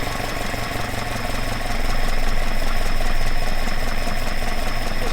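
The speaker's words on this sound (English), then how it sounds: "I'm going to make the engine much rougher than it is." A car engine fitted with twin Dellorto/Weber carburettors idles roughly, a loud, steady, uneven knocking drone that grows slightly louder partway through, with no talking.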